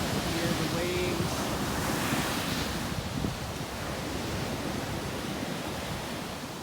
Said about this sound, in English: Hear the waves.